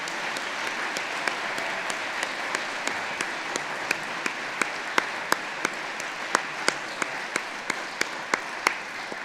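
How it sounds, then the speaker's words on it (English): A university awards-evening audience applauding the host, with sustained crowd clapping at moderate level and a string of sharp, evenly spaced, close claps standing out on top. "offer a huge round of applause to Sian, who's been such a wonderful host this evening"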